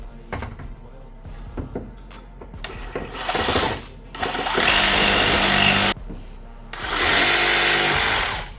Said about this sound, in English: Alright, we're back with the Sawzall.